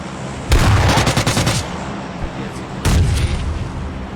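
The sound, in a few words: shotgun gunfire in PUBG Lite video game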